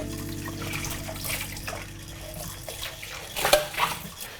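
Tap water runs steadily while a bowl is washed in a kitchen sink, making a continuous splashing hiss with a few louder clatters near the end and no talking.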